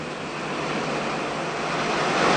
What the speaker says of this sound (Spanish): cerca de la orilla, las olas avanzan juntas